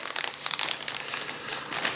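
A plastic zip bag holding carrot seeds is pressed and zipped shut, giving a close, continuous run of crinkling and crackling plastic noises with small snaps.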